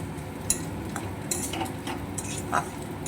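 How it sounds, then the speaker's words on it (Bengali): Semolina being fried in ghee in a wok for halwa, with a spatula clinking and scraping against the metal pan in irregular strokes over a soft steady sizzle. "কড়াইতে ঘি দিয়ে দিয়েছি দিয়ে সুজিটা ভেজে নিচ্ছি"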